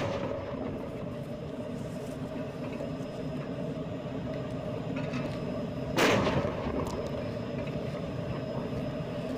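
Distant, muffled artillery and explosion booms from fighting in eastern Ukraine over a steady low rumble, with one sharper blast standing out partway through.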